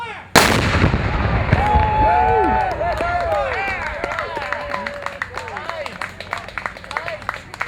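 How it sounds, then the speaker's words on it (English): A Civil War reenactment cannon fires once, a loud, close boom with a long rolling echo, followed by a crowd clapping and cheering. "So today they actually let me fire off the cannon, which was pretty awesome."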